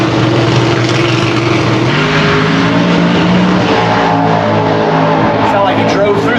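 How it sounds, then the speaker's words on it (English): A drag racing car blasts down the strip at full power, driving on through tire shake, its loud engine roar wavering with a low shaking pulse as voices talk over it. "Sound like he drove through that tire shake"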